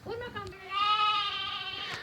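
A lamb gives one long, wavering bleat close by, with a short voiced sound before it and faint background noise around it.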